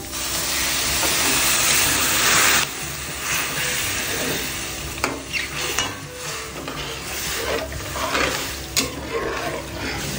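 Alaska evaporated milk poured into a pan of golden-browned mushrooms for burger steak, giving a loud, steady sizzle and hiss with some stirring and pan clatter, no talking.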